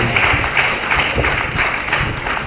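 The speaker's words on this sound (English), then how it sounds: "I'd like us to please applaud them one more time." A conference audience at a midwifery gathering in Nigeria applauds, a steady, fairly loud patter of many hands clapping with no voices standing out.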